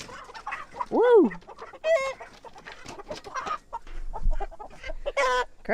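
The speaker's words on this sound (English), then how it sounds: "Crazy chickens." Pastured chickens on a farm cluck and squawk in short, irregular bursts, with one loud rising call, close by and fairly loud over a quiet background.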